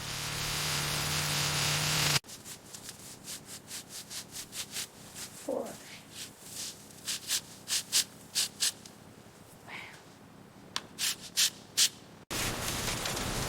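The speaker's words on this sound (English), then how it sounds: "Time to smooth these welds." Abrasive sanding over weld seams on the rusty wheel arch of a 1967 Mini Cooper S, a rhythmic run of short scraping strokes with steady noise at the start and end.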